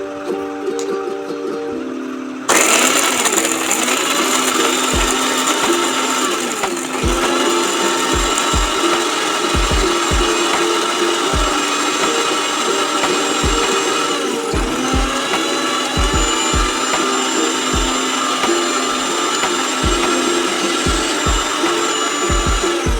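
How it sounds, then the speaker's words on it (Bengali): Cashews, mace and cumin being ground into a paste in an electric grinder, which starts abruptly after a quiet moment and then runs as a loud, continuous whirring drone with periodic knocks and rattles, with no voice. "কাজু বাদাম, জয়িত্রী আর এখানে জিরেটা আগে একবার এটাকে বেটে নেব"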